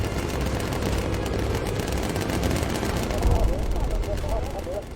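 Rapid bursts of machine-gun fire from bomber turrets in the World War II video game Bomber Crew, dense and continuous over explosions and engine drone, with a voice talking over the top.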